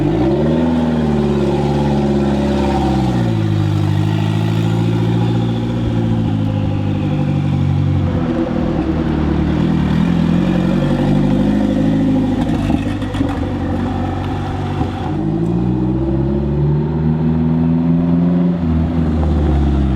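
A turbocharged engine in a mid-engine Mitsubishi Eclipse drones loudly and close while driving, its pitch climbing and dropping through several rev changes, with no other sound over it.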